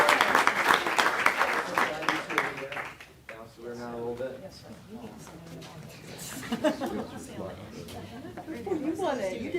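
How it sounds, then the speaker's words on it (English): Audience applause at a county board of education meeting, clapping in the opening seconds and picking up again later, mixed with speech throughout. "Yeah, we'll give them a hand clap again."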